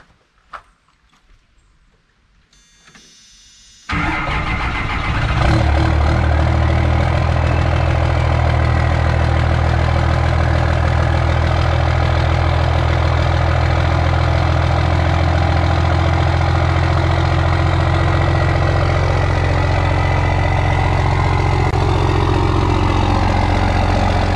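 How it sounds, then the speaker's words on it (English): A diesel truck engine on a cold Maryland morning cranks and fires after a few quiet seconds, then settles into a loud, steady, deep idle with a strong low rumble. "Let's do a cold start video."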